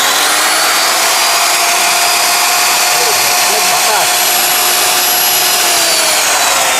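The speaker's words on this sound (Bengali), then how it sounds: "এটা হলো রাউটার মেশিন" A Ken brand router machine runs loud and steady with a close, continuous whine and airy roar, showing slight pitch wavering throughout and no pause.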